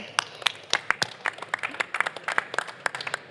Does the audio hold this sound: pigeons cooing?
no